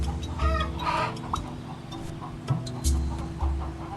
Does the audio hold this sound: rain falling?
no